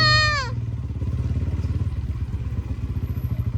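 Motorcycle engine on a road ride, a steady pulsing low rumble close by with a short rising tonal whine at the very start.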